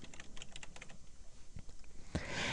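Quick, steady keystrokes on a computer keyboard as a folder name is typed, close and crisp, ending with a louder clack and a burst of noise.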